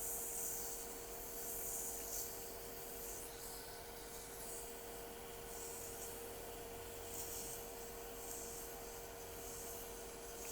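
A wooden turned vessel is sanded by hand with 320 grit abrasive, giving a soft, continuous rubbing hiss that stays close and quiet, with gentle rhythmic strokes and no talk.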